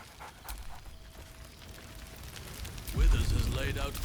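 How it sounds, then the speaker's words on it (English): Scratch, the dog in Baldur's Gate 3, gives a few soft panting huffs and whimpers, then a louder burst of barking near the end, close and clear over faint ambient game sound. "Scratch barks merrily in something like agreement."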